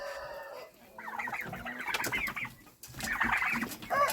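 Several chickens cluck and chatter in bursts, fairly close, with a brief pause in the middle before the clucking picks up again.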